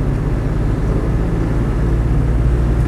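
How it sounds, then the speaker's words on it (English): A Land Rover Defender 110 200Tdi diesel engine drones steadily and low with a constant rumble and turbo boosting, heard close and alone with no talking. "You can hear the turbo boosting nicely."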